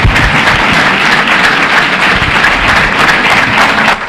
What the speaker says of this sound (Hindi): मैं चाहता हूँ हम अब एक ताली उसके लिए बजाएंगे जो मुर्दों से जी उठा